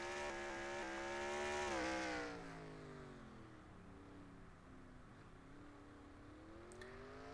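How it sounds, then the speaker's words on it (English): Race cars leaving the start of a heat race at the LA Coliseum, engines revving hard and climbing in pitch, then easing into a steady, fainter drone as the field pulls away. "Green flag is out. Here we go. 4th and final heat race underway."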